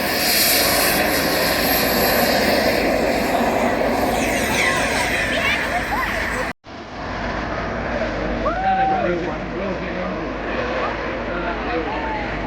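A 1/6 scale radio-controlled F/A-18 Hornet model jet flying at an airshow, a continuous loud jet roar that drops abruptly partway through, then a fainter distant whine with talk over it.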